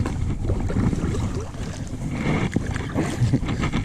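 Kayak paddling on open water during a fishing tournament, with steady low sloshing and water movement under wind noise, close and continuous with occasional splashy strokes and no talking.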